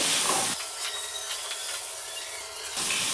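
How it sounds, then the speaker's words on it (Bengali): Chopped ripe tomato fries lightly in a pan for an aloo gobhi paneer curry, giving a steady, close sizzling hiss that softens slightly in the middle stretch. "টমেটোগুলো একটু হালকা ভাজা হবে।"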